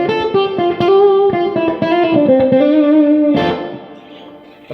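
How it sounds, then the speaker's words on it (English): Electric guitar notes ring out through an Orange Crush Pro 120 solid-state head with plate reverb, each chord trailing into a bright, dense reverb wash that lingers and fades at the end. "But it's a pretty cool sound of reverb."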